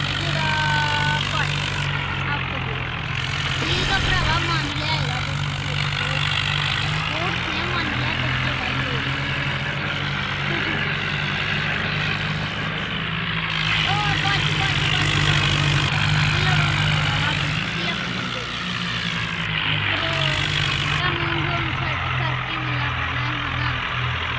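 Several tractors strain against each other in a village tractor tug-of-war, a continuous heavy engine rumble with rising and falling surges over about twenty seconds, with crowd noise faintly present.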